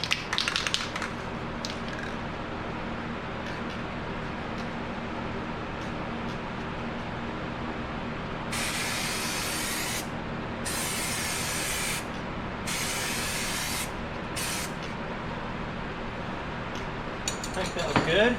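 Activator is sprayed onto hydro dip ink transfer film in three steady hissing bursts followed by a short fourth, each a couple of seconds long, heard close over a constant background noise.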